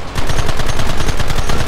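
Loud, continuous automatic gunfire from a Red Dead Redemption battle, played on an Xbox One X, with rapid overlapping shots in a dense, rhythmic burst that fills the whole moment.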